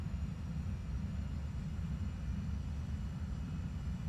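Airbus A320neo in X-Plane 11 descending on approach toward Boston, a steady low engine and airflow rumble droning continuously without break, alone and moderately quiet.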